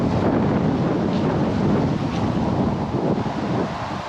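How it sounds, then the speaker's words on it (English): A strong tailwind blows across an outdoor disc golf course, a loud, steady roar of wind buffeting the microphone throughout, with no voices. "With the wind, big tailwind"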